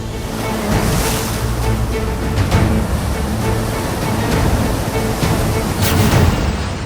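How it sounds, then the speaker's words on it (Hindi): Rushing floodwater in Hebei, China roars as a loud, broad, continuous wash with surging swells and no voices. "पानी का बहाव इतना खूंखार कि सड़कों पर खड़ी भारी भरकम कारें प्लास्टिक के खिलौने की तरह तैर रही हैं"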